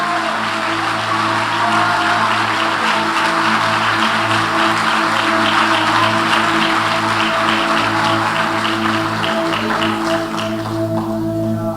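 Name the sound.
congregation applauding in church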